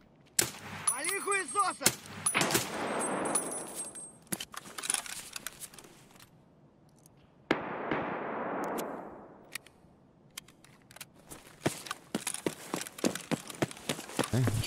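Gunfire in a video game: sharp, loud shots crack out in scattered bursts, with long echoing booms rolling off into distant rumble between them, and the shooting builds to a rapid flurry near the end.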